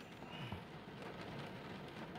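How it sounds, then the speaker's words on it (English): Rain falls outdoors in a soft, steady hiss on a wet Sunday, heard faintly at a distance with no talking. "it's raining out here"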